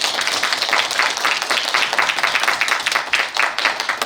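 Audience applause at a Korean children's choir information session honoring the piano accompanist and the conductor: steady, dense clapping from a roomful of parents, moderately close, continuing evenly throughout without talk.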